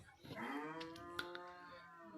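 A single drawn-out bovine moo from young cattle at a cattle market in Melur, loud and close with a rising then sustained harmonic call, faint market noise behind.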